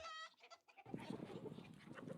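Chickens on a rural Hongcheon homestead cluck steadily and close by while pecking at leftover food scraps, a busy overlapping chatter after a brief quieter start.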